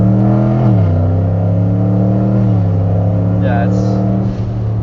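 A car's engine drones steadily while paddle shifters change gear, the pitch dropping sharply at each shift, heard loud from inside the cabin as people talk.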